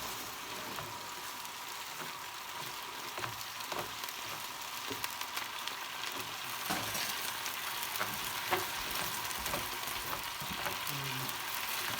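Beef, glass noodles and vegetables stir-frying in a pan, a dense continuous sizzle with scattered crackles and scraping stirs, close and steady throughout with no speech.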